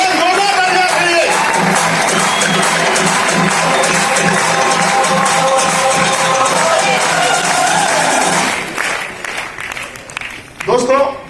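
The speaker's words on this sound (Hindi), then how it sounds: "एक जोरदार तालियां आप लोगों के लिए।" A large audience at a motivational talk gives loud, sustained applause mixed with cheering and whoops, a dense roar of clapping that drops off abruptly near the end, leaving scattered claps and voices.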